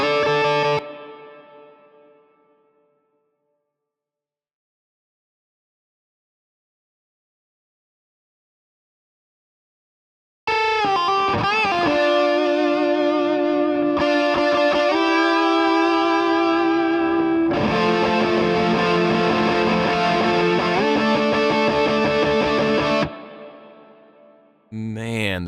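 Electric guitar with added reverb, EQ and compression, a polished, reverberant tone playing chords and melodic lines, loud and full, after a brief decaying note and a long silence.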